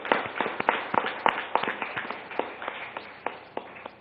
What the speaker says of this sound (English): So let's give a round of applause to all the elected companies.